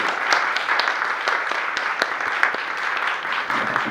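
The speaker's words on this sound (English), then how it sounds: "So an applause for the whole team" A crowd applauds at a hospital MRI and CT ribbon-cutting ceremony, steady close-by clapping with a few sharper individual claps standing out, no speech heard.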